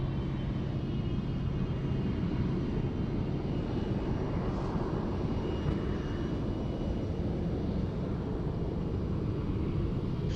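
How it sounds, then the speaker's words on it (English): Qantas Airbus A380 taking off from Sydney Airport, a steady, loud, continuous engine roar with broadband rumble that holds evenly throughout, no voices. "She goes, a nice lean departure there from Qantas 11"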